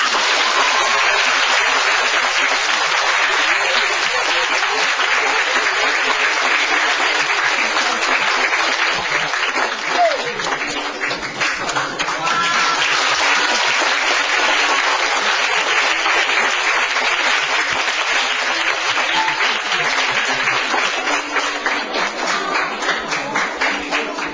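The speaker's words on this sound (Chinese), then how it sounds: "现在就让我们最热烈的掌声来欢迎小野老师吧。" Loud, sustained applause from an audience at a high school literature camp welcoming a speaker, dense clapping continuing evenly for over twenty seconds without letting up.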